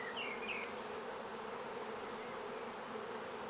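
A honey bee colony hums steadily during an open hive inspection, a dense, continuous buzz close by with a few individual bees droning past.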